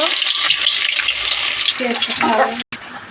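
Chopped onion sizzles in hot oil in a pan while a chicken curry is being started, a steady broad frying hiss that stays close and loud throughout, with stirring clatter and a brief dropout near the end.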